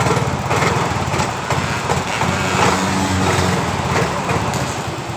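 A motorcycle engine runs loud and close with the throttle pulled, a continuous buzzing drone during a check of a low-pressure fault, with no speech over it.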